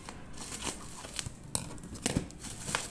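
Quiet, close crinkling and tearing of a shipping package being opened by hand, with scattered rips and rustles in short bursts and no talk.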